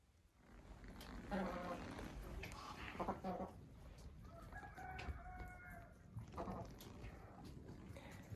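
Silkie hens kept in a greenhouse through hard frost cluck and crow, with a rooster's call rising midway over steady background noise and a voice talking at times.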